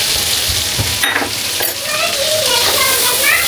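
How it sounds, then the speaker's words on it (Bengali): Spice paste of cumin, coriander, turmeric and chilli powder goes into a hot pan, raising a loud, steady sizzle that holds throughout with a few brief clatters. "এখন এটা এখানে ঢেলে দেবো"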